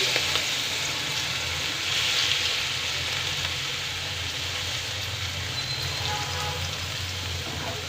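Onions frying in oil in a pan, a loud, dense, steady sizzle that stays even throughout with no voices.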